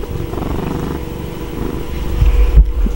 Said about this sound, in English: What are you doing here, pretty kitty?